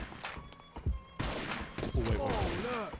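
Bursts of gunfire from the 50 Cent: Bulletproof video game, sharp repeated shots and rattling volleys at close range, mixed with game effects and a voice talking over the action.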